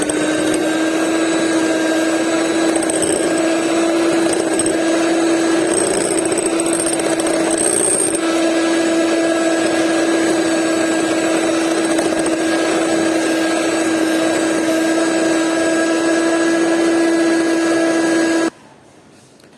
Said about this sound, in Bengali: প্রথমত আমরা হাফ কাপ নিয়ে ব্লেন্ড করে নিব এই চিনি এবং বাটারের মিশ্রণের সাথে